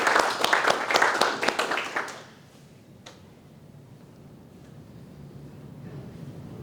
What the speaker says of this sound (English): So, round of applause to both.